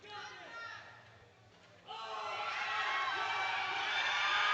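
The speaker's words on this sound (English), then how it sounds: "Everyone is cheering on Kubler." A crowd at a women's junior powerlifting competition cheers and shouts, first a moderate buzz of voices, then a sudden louder swell of whoops and yelling that keeps building, with some voices standing out above the rest.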